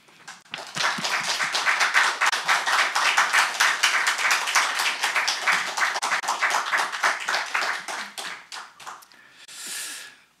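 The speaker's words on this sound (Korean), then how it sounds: "우리 공민 선교사님 나오실 때 큰 박수로 환영해 주시기를 바랍니다" A church congregation at a Wednesday worship service claps to welcome a missionary to the front, a brisk run of individual handclaps that builds, holds, then thins out and stops near the end.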